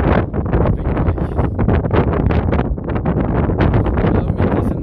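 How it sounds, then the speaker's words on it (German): Strong, gusty wind roars loud and close into the microphone without a break during an intense summer snowstorm high on the Susten Pass in the Swiss Alps. No voices are heard. "Und es schneit doch ziemlich intensiv. Es ist ziemlich, ziemlich windig."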